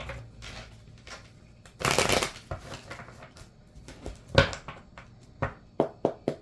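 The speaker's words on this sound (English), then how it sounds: "I'm just going to shuffle these quick because I'm going to pull the tarot first" Tarot cards shuffled by hand, close and crisp, with bursts of riffling and soft slaps that grow into sharper separate taps toward the end.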